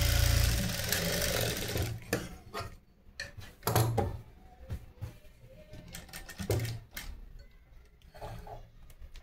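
A sewing machine stitching cotton lining onto a lehenga runs in a fast whirring burst, then continues in short stop-start runs with clicks and taps of handling fabric close by.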